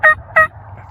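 Wild turkey gobbling out in an Iowa field during spring hunting, two loud rattling gobble bursts close together and then fading to quiet ambient noise.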